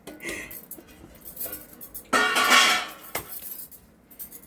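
Ragi flour laddu mixture being stirred together with ghee, giving a scattered series of clinks and scrapes of a utensil against the vessel, with a louder, denser burst of scraping midway.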